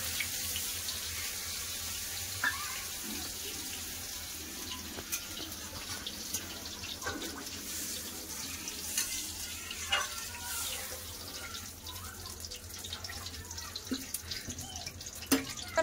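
Water is poured into a pan of frying spice paste and gives a long running, splashing wash. Faint sizzle and occasional drips and knocks sit underneath, and no one speaks.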